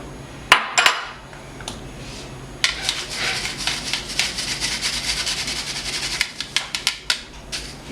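A spoon or whisk mixes sieved sugar, baking powder and baking soda in a bowl for a chocolate chip birthday cake. A few sharp clinks come first, then a steady run of scraping and tapping against the bowl.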